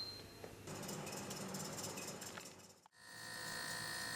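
A solar DC air conditioner with its compressor and centrifugal fan running gives a steady mechanical hum and whir, quiet and close. After a brief drop it settles into a smoother, even tonal drone.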